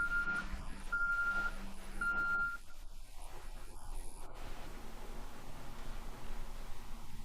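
Reversing beeps from timber trucks arriving loaded with freshly cut logs at a plywood factory, three evenly spaced beeps over a loud engine rumble, then the truck noise continues alone.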